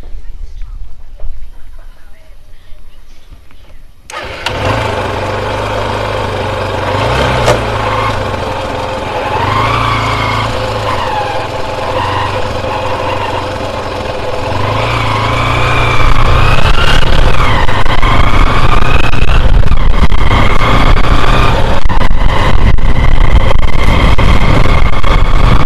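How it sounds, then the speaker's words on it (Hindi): A Hero Ignitor motorcycle (2016, BS3) engine runs steadily throughout, a constant buzzing drone that grows slightly louder and rougher toward the end, close by with no talking. "अभी भी बाइक चल रही है, आप देख रहे हो"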